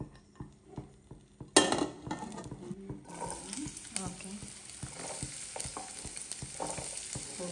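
Onion frying in oil in a pan for fried rice, a quiet sizzle with repeated scraping and stirring clicks of a utensil, rising to a steadier hiss partway through.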